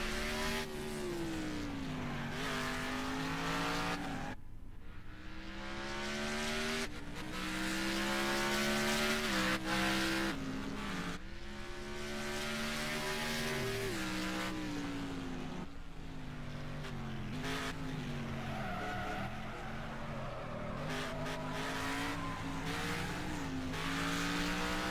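A race car engine at full throttle on track during a race, loud rising and falling engine whine as it shifts through gears, with tire noise and other cars passing, continuous and close with no talk.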